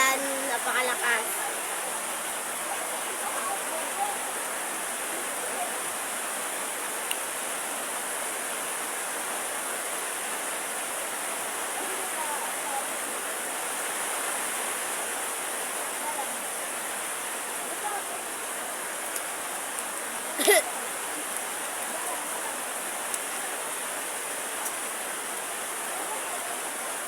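Heavy rainfall as a constant, thick wash of hiss, close and loud without a break, with a brief faint sound rising above it partway through.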